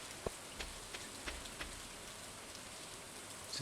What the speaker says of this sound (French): Ah, ça y est, la pluie.